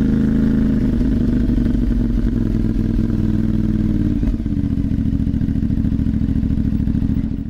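A CFMoto 450MT adventure motorcycle fitted with an IXL exhaust pipe idles loud and close, its deep steady engine rumble broken by a brief dip before settling back to an even throb.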